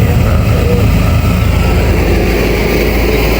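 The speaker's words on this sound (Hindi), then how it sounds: "जैसा कि देख सकते हैं धीरे धीरे गाड़ी चल रहा है" Low, steady rumble of a Tata truck's heavy diesel engine as the loaded truck slowly pulls away toward the Markundi Ghat mountain climb, loud and continuous with no voices.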